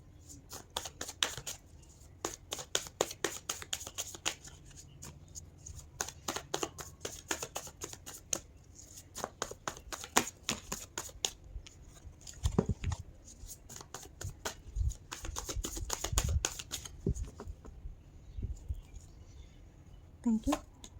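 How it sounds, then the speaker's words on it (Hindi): Tarot cards shuffled by hand in bursts of rapid crisp riffling flutters, pausing between rounds, close and quiet, with a voice speaking in between. "ओके, आपके लिए निकालते हैं कार्ड्स।"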